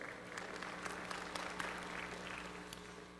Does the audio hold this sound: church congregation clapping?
yes